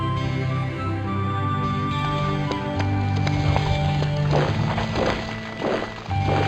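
Horse hooves clip-clopping in the strategy video game Lords of the Realm 2, a scattered run of hoof thuds and knocks over a game music bed, building in the later seconds.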